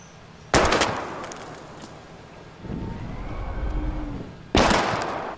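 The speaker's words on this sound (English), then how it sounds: "We're gonna shoot all these bottles without wasting a single bullet." Two sharp, loud gunshots about four seconds apart ring out while shooting bottles in the video game Life is Strange, each followed by a decaying echo over a low ambient hum.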